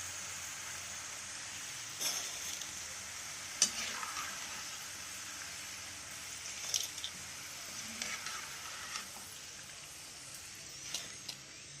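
Homemade French fries sizzle steadily in hot oil, a continuous bright crackle with occasional louder pops and stirring scrapes, close and alone with no talk.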